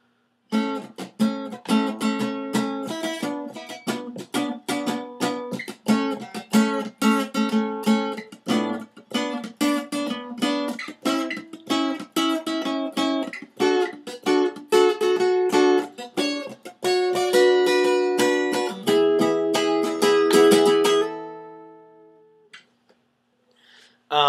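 Guitar plays the verse riff of a song in short, rhythmic chord stabs and quick notes, loud and alone, ending with a held chord that rings out.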